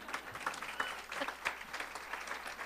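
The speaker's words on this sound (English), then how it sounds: "Go ahead and applaud." An audience at an awards breakfast applauds a volunteer, with steady, dense clapping from a roomful of people, moderately quiet and continuous throughout.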